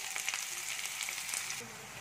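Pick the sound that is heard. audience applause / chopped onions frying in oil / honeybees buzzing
chopped onions frying in oil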